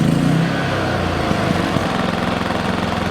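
A Vanguard Duca D4000iSE 4 kW low-noise portable inverter generator engine starts up and runs at a loud, steady drone close by, with no voices over it.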